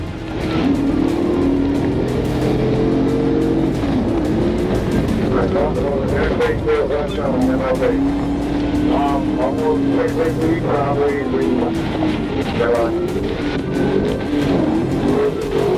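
A Dodge speeds recklessly during a police chase on Martin Luther King Jr. Drive, its engine roaring loud and continuous with surging revs throughout, while a voice talks over the noise.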